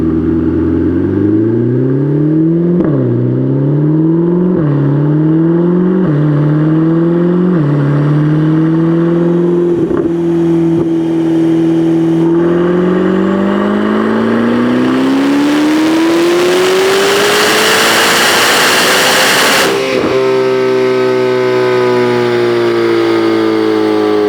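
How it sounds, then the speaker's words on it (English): A Chevrolet Corvette C8 ZR1 on a dyno in fifth gear, engine droning loud and close through several quick stepped revs, then a long sustained climb toward redline that swells into a harsh roaring wail before cutting off and easing down. "you ran it from 2500 to redline in fifth gear"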